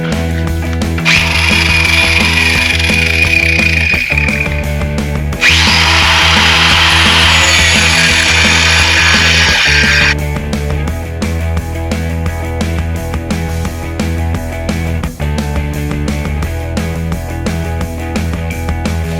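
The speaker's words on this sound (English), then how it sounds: "I'm going to try here with an angle grinder, hold this in the vise, see if I can cut through it pretty easily" An angle grinder cuts through a heavy-duty metal bracket clamped in a vise: a loud, steady motor whine runs throughout, with two long bursts of harsh, bright cutting noise as the disc bites the metal, no talking.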